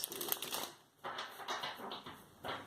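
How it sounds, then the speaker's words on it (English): Tarot cards being shuffled by hand, soft papery riffling bursts in a few quick flurries, close and quiet with brief pauses between. "a couple more shuffles for Sidereal Taurus for the first half of February 2019"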